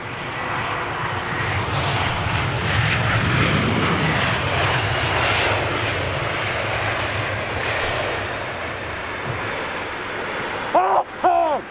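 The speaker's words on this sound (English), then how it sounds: "Now I think this American 777 is making his way up for departure of 27 right" An American Airlines Boeing 777 rolls for departure on runway 27 right at London Heathrow, a broad, steady engine roar at moderate distance that holds throughout, with a brief clatter of nearby handling noise near the end.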